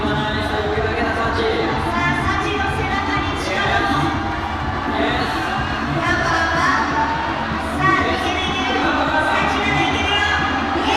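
A packed school hall audience at a climbing World Cup lead final in Inzai cheers wildly, a loud sustained roar of whoops and shouts with a commentator speaking over it.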